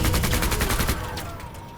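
Rapid automatic gunfire in the MENACE tactical video game, a loud burst of closely spaced shots that trails off into fainter echoing fire.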